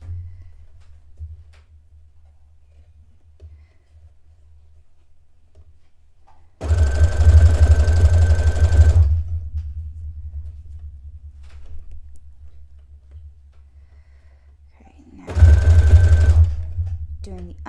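A sewing machine stitches the underarm curve of a dress in two loud bursts, one about two seconds long and a shorter one later, separated by quiet stretches with faint room noise.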